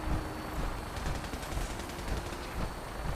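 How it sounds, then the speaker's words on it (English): Gunfire in Fallout 4, with a rapid string of distant-sounding shots in irregular bursts, fairly faint under a dense background. "Why are they shooting at this?"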